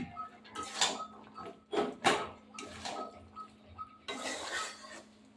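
Boiled chickpeas being stirred in a pan for a ghugni dish with meat, giving irregular scraping, clinking and sizzling bursts of spoon against metal over a faint steady hum.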